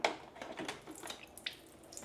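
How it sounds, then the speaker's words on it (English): Water drains out of an Ecozy ice maker after the plug is pulled, a soft trickle with scattered drips and small splashes, close and quiet. "you're going to drain the water that's in the bottom here by pulling the plug."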